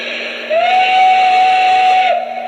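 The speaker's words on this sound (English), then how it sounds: "Okay, there's first whistle." A Lionel Legacy model Russian Decapod steam locomotive sounds a single sustained whistle for about a second and a half over a constant background hiss and hum.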